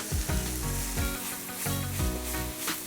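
Mushrooms sizzle and fry in a pan, a steady close crackle with a few louder stirring bursts and scraping pulses repeating roughly every second.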